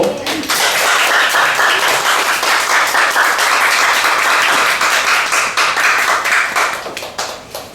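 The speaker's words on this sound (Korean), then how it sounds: "다 같이 박수로." A church congregation claps after a baptism at a Sunday service, dense sustained applause filling the room for several seconds before tapering off near the end.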